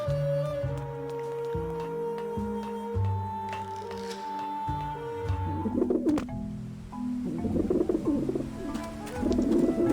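Skeletal pigeons in the Grim Fandango video game coo repeatedly in low, rounded pulses, fairly close, with clattering flutter and scuffling noises joining in the second half.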